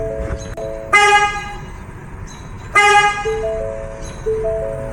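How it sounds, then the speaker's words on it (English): A car sounds repeated loud horn beeps while tire pressure sensor IDs are written to the tire ECU, with two long honks, shorter tones between them and a quieter beep at the end. "Doing some crazy beepage."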